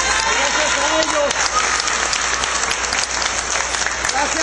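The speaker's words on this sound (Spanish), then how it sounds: "nuestro amigo Enrique, nuestro amigo Arredondo, les puedo decir un aplauso para ellos." Sustained audience applause, loud and dense, a crowd clapping steadily with no pauses and a faint murmur of voices beneath.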